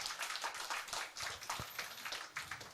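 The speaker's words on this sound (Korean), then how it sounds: "남종호 선도님 박수 한 번." Applause from a church congregation during a Sunday worship service, quiet and somewhat distant, a steady patter of many hands clapping for a few seconds with no talk over it.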